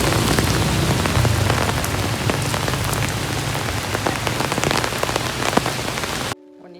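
Steady rain pours down in Chiagmai-area house surroundings, a dense continuous hiss of drops striking surfaces, loud and close throughout before cutting off abruptly near the end.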